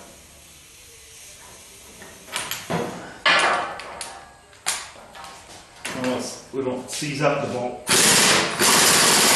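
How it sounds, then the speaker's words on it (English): An impact wrench tightens a bolt on a rear spring, firing several loud, rough bursts of varying length amid workshop clatter while someone talks between them. "we're going to go tighten on the impact wrench"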